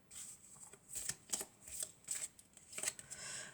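Tarot cards being shuffled and drawn by hand, a series of quick crisp riffling and flicking bursts in uneven rhythm, close but quiet, with no talking.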